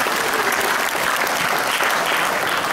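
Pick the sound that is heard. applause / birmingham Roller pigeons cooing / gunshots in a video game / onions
applause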